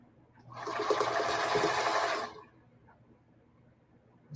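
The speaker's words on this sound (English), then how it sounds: "I'm sewing over one of the things." A sewing machine runs in a steady whirring burst of about two seconds while stitching a feedsack hobo bag, close and fairly loud, then stops and leaves quiet room noise.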